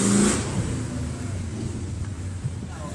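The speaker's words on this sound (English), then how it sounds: "A very loud motorcycle going through." A loud motorcycle engine roars nearby with a steady rumble, fading slightly as it moves past.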